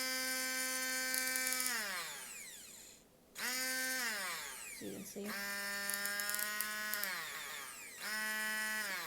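A MegaWise 5-in-1 immersion hand blender motor whining loud and close, spinning up and down through its speeds, including turbo, in several bursts with a brief pause; a voice speaks briefly over it.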